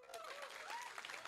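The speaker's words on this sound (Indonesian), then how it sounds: "Tepuk tangan." An audience at a political rally applauds, with a steady wash of clapping and crowd noise heard at a distance, faint, while voices call out over it.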